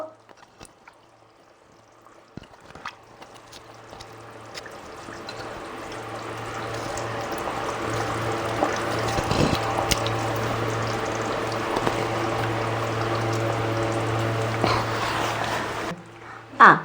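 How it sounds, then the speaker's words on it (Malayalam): Fish curry made with pepper and roasted ground coconut boils in a pot, a soft bubbling hiss that swells gradually and then holds steady, close by with a low hum beneath and no talk. "കറി നന്നായി തിളയ്ക്കുന്നു."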